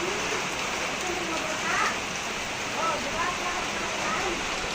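Steady rain hisses down in a continuous wash of noise, with faint voices murmuring in the background.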